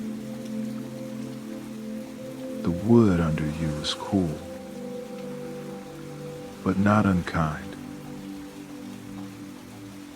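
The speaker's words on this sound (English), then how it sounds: "You can hear the rain pattering on the roof above." Gentle rain pattering on a wooden shelter roof above a bench at a closed boardwalk in winter, a soft, steady, irregular wash running throughout beneath a calm voice speaking in two short stretches.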